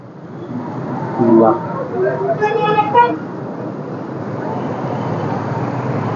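A bus horn toots a few times over steady roadway rumble as a bus goes by outside a car shop in Arcot, with some faint voices in the mix.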